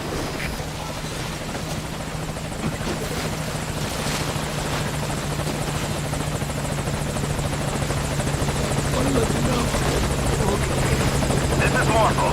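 The Morpho helicopter arrives at a landing zone in Metal Gear Solid V: Ground Zeroes, its rotor thumping and engine whining loud and close, growing slightly over time, with a radio voice speaking over it.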